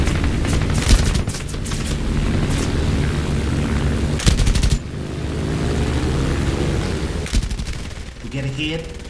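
F4F Wildcat machine guns fire in bursts during a video game air combat mission, rapid rattling volleys over a constant engine drone, with a few short pauses between bursts.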